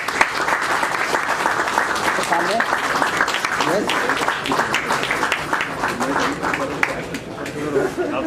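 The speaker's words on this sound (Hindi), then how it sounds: "तालियां बजाते रहें।" A crowd at a retirement ceremony for a Punjab National Bank chief manager gives steady, sustained applause, with people talking over the clapping throughout.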